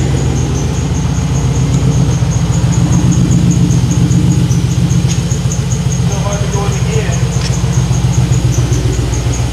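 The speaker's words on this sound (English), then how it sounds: "Big American V8." A big American V8 engine, an LQ9 swapped into a 300ZX, runs nearby with a loud, steady, deep rumble that holds throughout.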